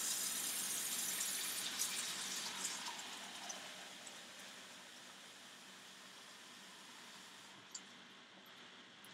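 Roughly two cups of water pour into a pan to make a quick pickling brine for onions, a steady close gushing rush that slowly fades toward the end.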